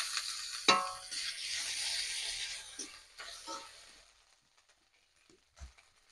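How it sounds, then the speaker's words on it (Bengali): Ginger garlic paste hits hot oil with frying onions, giving a bright sizzle that fades over a few seconds, with a couple of soft spoon or pan knocks afterward. "এবার দিয়ে দেবো আদা রসুন বাটা।"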